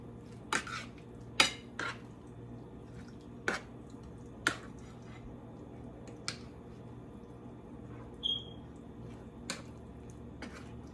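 Meat being mixed with lemon juice in a bowl by hand, giving a run of separate wet clinks and squelches spaced a second or so apart over a quiet background hum.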